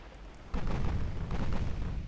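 Battleship main guns fire in Ultimate Admiral: Dreadnoughts, a deep heavy boom that bursts in suddenly and rolls on as a sustained low rumble.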